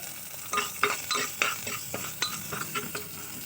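Fish pieces with a little turmeric and salt frying in hot oil in a pan, a close sizzle broken by repeated clinks and scrapes of a utensil against the pan.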